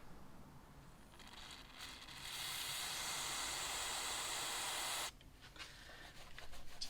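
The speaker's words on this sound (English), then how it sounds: "You use a little bit of parts cleaner." Parts cleaner sprays onto the cam cover area of a VW T4 2.5 TDI engine in a single steady hiss of about three seconds, set between quieter rustling and handling noises.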